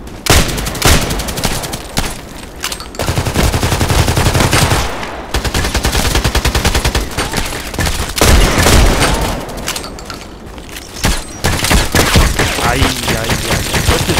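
Rapid, loud gunfire from the video game Contract Wars, dense bursts of shots with brief pauses and booms, firing close and continuously for most of the stretch.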